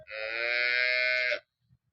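A single long, loud cow moo lasting over a second, close by, then silence.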